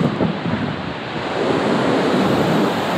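Strong wind roars steadily into the microphone outdoors beside a noisy waterfall at Jajce, forming a loud continuous rush with heavy low buffeting and no voices.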